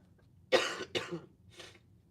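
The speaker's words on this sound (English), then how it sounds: "I'm gonna have to pull off my mic a few times to cough." A person coughs twice in quick succession, then once more more softly, close by in a quiet room.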